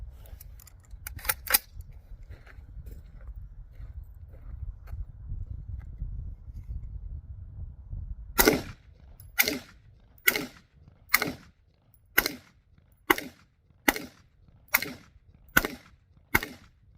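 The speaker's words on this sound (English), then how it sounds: "that was 10 rounds, fairly rapid fire" Ten rapid, evenly spaced shots from an M16A1 rifle ring out loud and close on a range, preceded by a few faint earlier cracks and a stretch of low background rumble.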